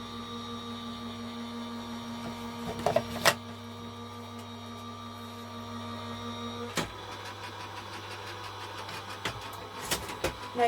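A card runs through an embossing die cutting machine with a steady mechanical whir and hum, moderately loud and close, broken by a few clicks and knocks.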